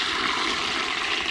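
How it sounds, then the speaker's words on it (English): Hot water pouring into a cooler holding steaks at a winter bushcraft camp, a brief steady rushing splash, close and continuous. "Pour that hot water right there."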